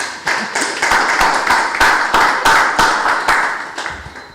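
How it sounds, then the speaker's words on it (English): An audience at a women's and gender rights consultation in Grenada gives a loud, sustained round of applause, many hands clapping steadily and close for several seconds with no talking. "we must again give her another round of applause"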